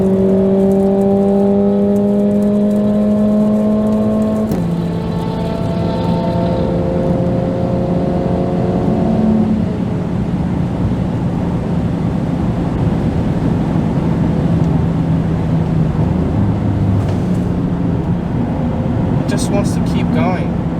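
Mercedes-AMG CLA45 S engine droning at high RPM from inside the car, with a sustained tonal roar that shifts pitch as it pulls, while someone talks over it.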